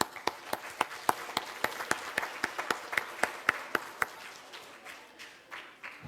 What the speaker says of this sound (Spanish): Ok, muy bien, los que respondieron, un aplauso